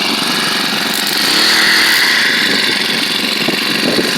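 A SEDEG four-stroke 1.5 hp air-cooled outboard motor runs steadily and loudly at close range, a continuous buzzing engine drone with no talking.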